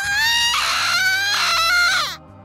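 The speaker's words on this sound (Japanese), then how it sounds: "僕は絶叫した。" A horror novel game character lets out a shrill, sustained scream lasting about two seconds. It wavers slightly in pitch and then cuts off abruptly into near silence.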